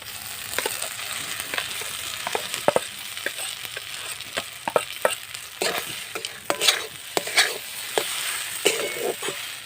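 Mashed boiled potato is stirred and fried in a pan for bread pakora, with a soft sizzle under frequent scraping strokes and taps of the spoon, close and fairly quiet.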